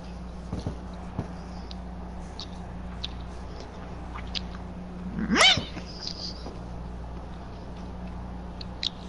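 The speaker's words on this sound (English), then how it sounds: "I scared the cat, sorry." A startled house cat gives a single short, rising meow-like cry midway through, fairly close, over a steady low hum with faint background clicks.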